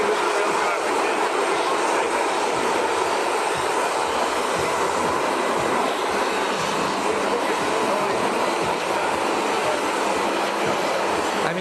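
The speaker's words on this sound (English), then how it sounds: "President Trump's Trump Force One has landed" Trump Force One, a large jet airliner, sits after landing with a steady, loud broadband engine roar and whine filling the scene, continuous and close, with no distinct breaks.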